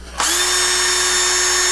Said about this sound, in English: Why do you have a drill?